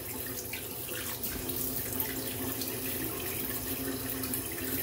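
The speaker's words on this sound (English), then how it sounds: "I'm gonna rinse off" Tap water runs steadily into a sink while a face is rinsed off, a constant close splashing flow with no talk.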